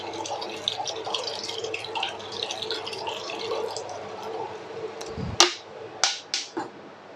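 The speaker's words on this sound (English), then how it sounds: "We pour a white vinegar into the pot." White vinegar poured from a bottle into a cooking pot for a homemade Thai nam jim dipping sauce, a soft continuous liquid trickle followed by a few distinct splashing glugs near the end.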